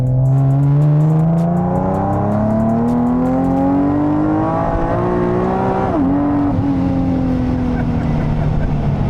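A supercharged Nissan 370Z accelerates hard, its engine note climbing steadily through the revs with a brief dip at a gear change before pulling again, loud and close, under faint talk.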